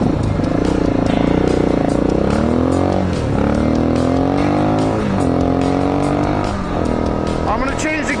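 A 2004 Honda XR400R motorcycle engine running loud and close, its revs rising and falling in repeated sweeps, with a person talking over it.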